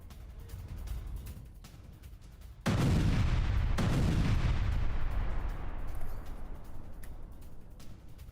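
A strike on a Hezbollah weapons depot hits with a sudden heavy boom after a low rumbling background, followed by a loud roaring blast that slowly fades over several seconds, distant and without speech.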